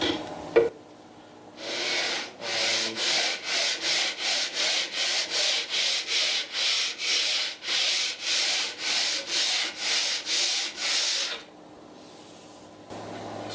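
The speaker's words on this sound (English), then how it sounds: "I'm gonna now flatten it out a little bit, and I'm gonna use, as always, my aluminium beam." A guitar neck's fretboard is sanded flat with an aluminium beam, a long run of rhythmic abrasive strokes, about twenty even back-and-forth rubs, close and loud, with quiet before and after.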